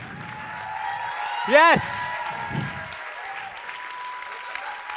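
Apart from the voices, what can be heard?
audience applause at a talent show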